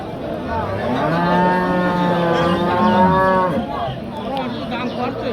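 Cattle bellow with long, loud moos at Barobazar cattle market, a near harmonic call rising over steady crowd noise for about three seconds before the hubbub continues.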